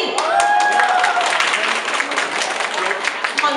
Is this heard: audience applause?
yes